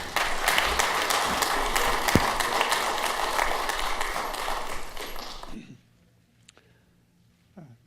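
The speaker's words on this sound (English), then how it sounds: "Please give a big round of applause for Don Sager." An audience claps loudly and steadily for a talent show performer for about five and a half seconds, then the applause cuts off into near silence with a few faint taps and clicks.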